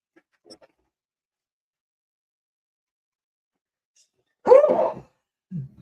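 A single sharp sneeze bursts out near the end after mostly quiet, followed by a short low vocal sound.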